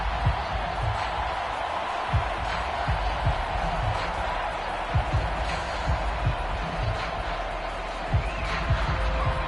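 A stadium crowd in a football video game gives a sustained roar with scattered thumps and whoops, heard under a play-by-play commentator.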